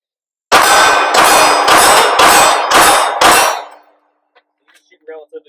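Six rapid Glock 43X pistol shots ring against a steel target at about nine yards, each a sharp close metallic clang, followed by silence and a faint short voice at the end.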